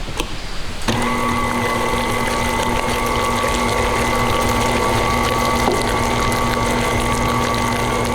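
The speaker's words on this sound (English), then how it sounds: "let's go ahead and give our main base a final mix with our sapote" An electric mixer whirs steadily through a black sapote dessert batter, switching on after a brief clatter and then running as a constant close motor hum with a faint rhythmic rattle, no talking.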